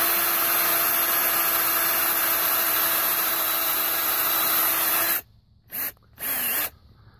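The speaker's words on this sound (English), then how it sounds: "what I'm gonna do is go ahead and drill a hole into the tree" A power drill whines steadily at high pitch for several seconds while boring a hole into a fruit tree trunk, then cuts out and gives two short bursts before stopping.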